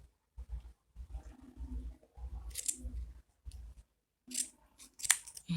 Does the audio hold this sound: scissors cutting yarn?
yes